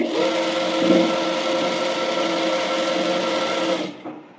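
A sewing machine stitches a bonnet with a loud, steady, even whir for about four seconds, then stops abruptly and a short quiet tail follows, with no talking.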